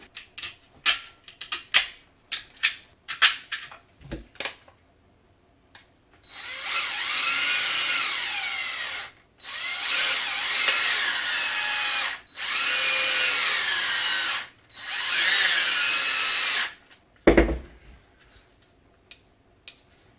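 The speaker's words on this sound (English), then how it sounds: "Now it's just a matter of putting the screws back in." Screws are run back into a DeWALT battery case with a power driver, which whirs in four sustained bursts separated by short pauses, preceded and followed by light ticking and handling clatter.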